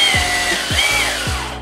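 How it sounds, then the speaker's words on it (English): A Bosch Bulldog 18V cordless SDS Plus 1-inch rotary hammer drills steadily and loudly close up, a continuous hammering whine with a few brief dips in pitch as the load changes. "this is drill."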